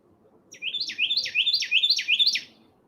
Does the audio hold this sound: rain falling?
no